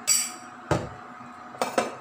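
A few sharp ceramic clinks and knocks, like a tea cup being picked up and set against a hard surface, close by in a quiet room.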